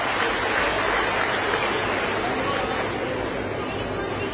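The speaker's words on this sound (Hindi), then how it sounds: "बच्चों एक ताली आप अपने लिए बजाइए" Students clapping together at a Chief Minister's live public event in Himachal, a dense steady applause that fills the whole stretch at even loudness, with a faint crowd murmur beneath.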